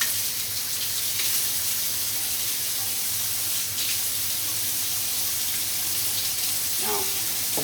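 Cooked tilapia for ceviche being strained, giving a steady, close rush of pouring water that runs the whole time, with a few faint clinks near the end.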